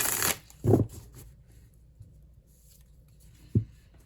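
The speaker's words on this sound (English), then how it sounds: "let's do one more shuffle and then we'll find our favorite card" A Phantasma tarot deck is shuffled by hand in a few quick riffling bursts, with quiet pauses and a soft card snap near the end, close up.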